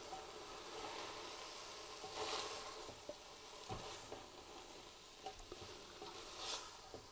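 Chilli ingredients with dried spices and herbs are stirred in a Ninja Foodi slow cooker pot, a faint, continuous sizzling hiss broken by soft scrapes and occasional light clicks of the utensil.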